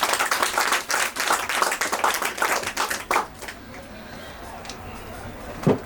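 An audience claps for a book at a talk, a burst of brisk applause that fades after about three seconds into quiet room noise.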